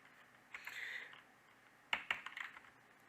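Quiet, close typing on a computer keyboard while writing a PHP script: a short burst of soft keystrokes, a pause, then a quick cluster of sharper clicks.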